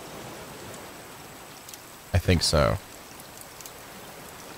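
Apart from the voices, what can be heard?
rain falling in the video game Raft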